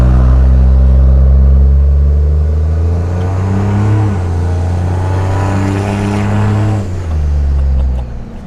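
Truck engine pulling while driving, a loud, close, deep rumble with strong low harmonics that rises and shifts as it accelerates through gears, with a brief dip near the end and no talking.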